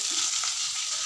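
Fish fries in a hot pan with a steady, close hiss of sizzling oil lasting about a second, with no voices.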